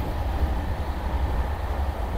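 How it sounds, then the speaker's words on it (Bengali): Kanchankanya Express passenger train running between New Jalpaiguri and Aluabari, a steady low rumble and rattle heard from on board, continuous with no talk. "ট্রেন এখন যাচ্ছে হচ্ছে, মানে কভার করছে হচ্ছে নিউ জলপাইগুড়ি থেকে আলুয়াবাড়ির রাস্তায়।"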